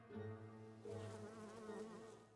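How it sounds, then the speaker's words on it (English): Bees buzz in a video game, a continuous steady humming drone with slight wavering pitch, faint and without talk. "Look at the bees."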